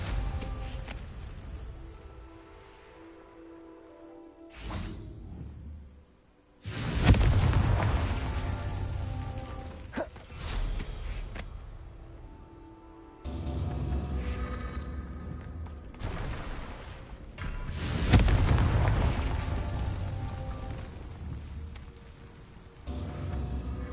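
Confringo blasting spell in Hogwarts Legacy, several loud booming explosions with long rumbling tails, spaced irregularly over about twenty seconds between quieter stretches of ambient game sound.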